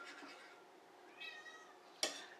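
A cat meows once, a rising, slightly strained call, fairly close, followed by a short sharp clatter in an otherwise quiet room.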